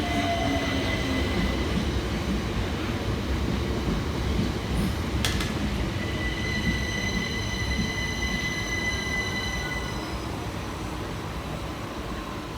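A pair of Southeastern Class 376 electric trains rolls into a station, a continuous loud rumble of wheels with steady high squeals and a brief sharp click, easing slightly as the train slows, no talking.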